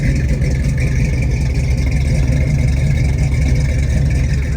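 A Pontiac Trans Am engine idles steadily and loudly after an exhaust leak fix with both mufflers reconnected, a deep, even rumble with no talking.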